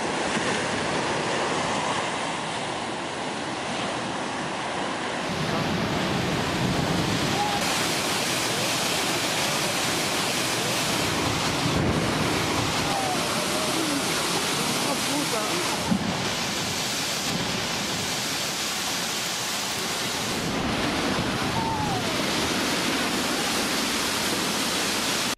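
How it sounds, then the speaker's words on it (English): Powerful ocean waves crash and roar continuously as broad, loud surf washes, with swells rising and falling over nearly half a minute and no voices. "Here we see again the mighty force of the ocean."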